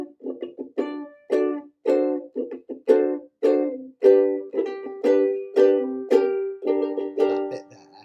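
A ukulele strums a lively section of the tune Crazy G, with rapid rhythmic chord strokes and quick triplet-like flourishes, close and clear with no talking.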